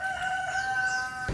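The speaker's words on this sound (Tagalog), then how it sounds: "yung kaber na manok na malaki" A big kabir rooster crows once, a single drawn-out cock-a-doodle-doo heard from a short distance over steady outdoor background noise, ending abruptly.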